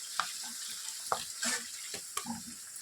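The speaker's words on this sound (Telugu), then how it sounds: "వీటిని కొద్దిగా స్మెల్ వెళ్ళేంత వరకు ఫ్రై చేసుకోవాలి." Fenugreek leaves fry in oil for chicken dum biryani, a soft continuous sizzle punctuated by several sharp spoon-against-pan clicks and stirring scrapes.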